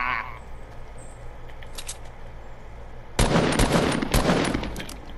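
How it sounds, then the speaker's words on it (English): Fortnite gunfire, a short burst first, then a loud, rapid volley of several shots over a low game background. "I only shot him twice, bro."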